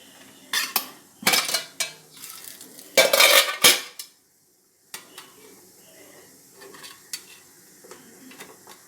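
A metal pot lid lifted off a pot of bread pudding cooking on a stove, with loud clanking metal knocks in bursts followed by softer, sparse taps and clinks.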